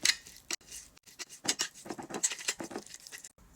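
Sardine stuffing ingredients with lemon juice being stirred together in a bowl, giving close, irregular wet patters and light utensil clinks against the dish, with no voices.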